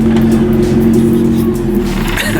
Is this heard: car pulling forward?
yes